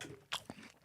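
Someone bites into a crunchy Gala apple, giving two quick, crisp crunches less than a second apart, close but fairly quiet, with no talking over them.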